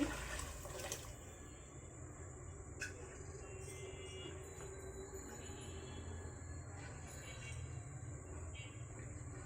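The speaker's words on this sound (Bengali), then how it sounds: "আরও চার কাপ ফুটানো পানি দিয়ে দিচ্ছি" Four cups of boiled water poured into a pot of kabsa gravy, a steady splashing, gushing pour that runs continuously for several seconds at moderate volume.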